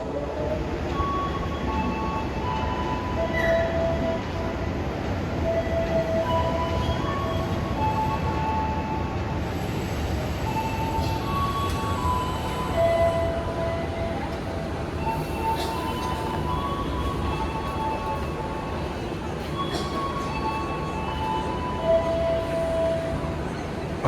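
Aboard a KRL commuter train between Jogja and Solo, a steady rolling rumble fills the carriage, with faint wheel squeals and occasional tonal whines drifting over it, and muffled voices now and then.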